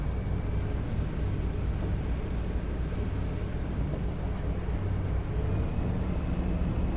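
A 2013 Bayliner 195 with a Mercruiser 4.3 engine runs at 2,500 RPM on the water, a steady, dense low engine drone mixed with hull rush and wind buffeting, continuous and without voices.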